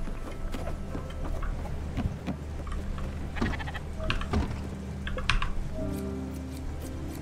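Sheep bleating in the video game Spiritfarer, a few short bleats over a steady ambient game soundscape, with scattered clicks and small chimes.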